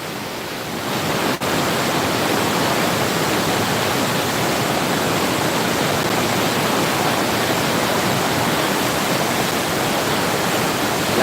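The water of Niagara Falls thunders in an unbroken, loud, broadband rush up close, with one faint click early on.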